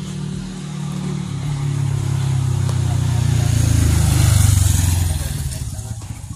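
A motorcycle engine rumbles nearby, its drone swelling as it passes close and then fading away.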